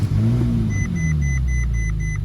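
An Audi R8 engine runs at a steady idle just after starting, a close, low rumble with faint drifting pitch and a regular high electronic chime beeping repeatedly over it.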